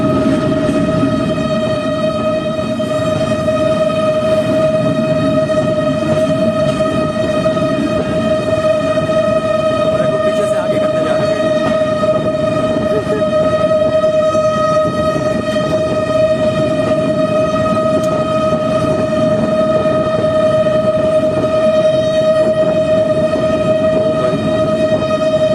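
A train running along tracks through a crowded market in Kuchlak, Balochistan, a loud continuous drone with a strong sustained horn-like tone over rumbling wheels, steady and close for the whole stretch, no voices.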